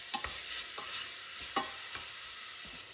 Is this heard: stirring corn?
yes